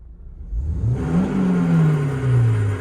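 Honda Reborn car engine revving up from idle, a rising, then sustained mid-pitched engine whir heard close and loud, held for a couple of seconds without speech.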